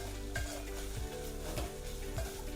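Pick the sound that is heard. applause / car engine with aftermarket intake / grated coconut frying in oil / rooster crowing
grated coconut frying in oil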